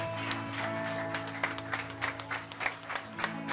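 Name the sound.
congregation applauding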